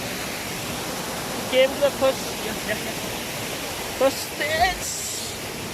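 A waterfall hidden inside a tea estate in Torrington, a steady broadband roar of falling water heard from close by while someone speaks over it in short phrases.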